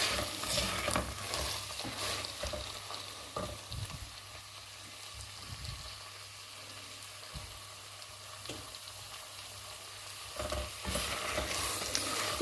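Dried meat and beans stirred in a pan for a Turkish bean dish, with a steady sizzle and intermittent scraping and stirring knocks running throughout, close and moderately loud, no voices.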